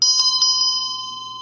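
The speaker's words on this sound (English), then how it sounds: "So we have two sizes of temple bells." Small temple bell from a pair of sizes, struck about four times in quick succession, bright metallic ring with steady sustained tones lingering clearly after the strikes, close and fairly loud.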